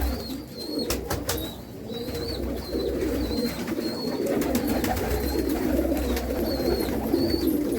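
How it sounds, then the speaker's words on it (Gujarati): Several pigeons at a loft kept by a pigeon fancier coo repeatedly under a steady low background hum, with sharp clicks and flutters scattered throughout; the cooing is moderately loud and continuous. "કબૂતરની દુનિયા કાંઈક અલગ છે આખી."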